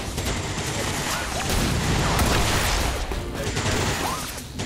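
Burst of rapid gunfire in the video game XCOM 2: War of the Chosen, a dense volley of sharp cracks and crashes layered over continuous noisy clatter, loud and close for several seconds.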